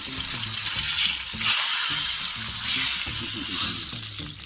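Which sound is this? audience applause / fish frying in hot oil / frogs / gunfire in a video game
fish frying in hot oil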